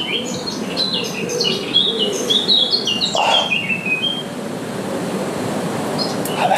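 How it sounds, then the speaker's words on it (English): A bird chirps in a string of bright, quick tweets and whistles, loud and close, over a steady low hum like air conditioning. There is no speech. "Enjoy the bird."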